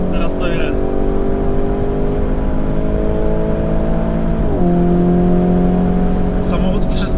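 A Lamborghini Urus Mansory with an 800 hp engine, driven in Strada mode, drones steadily from inside the car as it accelerates, its engine note climbing smoothly and then dropping at a gear change before climbing again.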